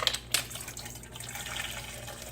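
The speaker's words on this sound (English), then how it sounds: "everything's low enough I could pour some of this broth in" Clam broth poured into a pan for linguine with white clam sauce, a steady watery splash and trickle with brief louder gushes near the start, close and alone.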